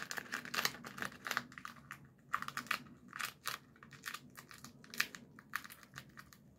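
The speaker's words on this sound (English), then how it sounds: "We want to ball up some tape here" Masking tape crumpled and balled up by hand, a quiet run of irregular crinkling crackles and sharp tape snaps in dense bursts, close by with no talk.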